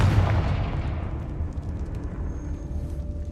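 A Confringo fire spell goes off in Hogwarts Legacy: a loud, deep explosive boom that rolls into a long, slowly fading rumble.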